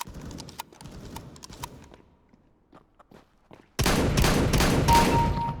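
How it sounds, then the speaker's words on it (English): Footsteps in Counter-Strike, a string of quick clicky steps at moderate distance that fade and break off, followed by a sudden loud burst of rapid gunfire. "I could have swore I just heard footsteps coming from here"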